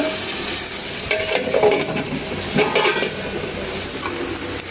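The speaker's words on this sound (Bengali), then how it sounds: "আর একটু কচুগুলো এগুলো বারে বারে নাড়া দেওয়া লাগবে, নাহলে নিচে লেগে যাবে।" Taro leaves and stems are stirred in spice masala in a pan, with repeated scraping and clattering stirring strokes over a continuous frying sizzle, close and fairly loud, with no talking.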